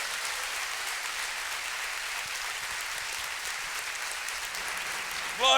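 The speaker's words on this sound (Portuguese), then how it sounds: "aplauda a palavra do Senhor" Church congregation applauding during a sermon, a loud, steady wash of many hands clapping that holds evenly for several seconds, with a voice cutting in right at the end.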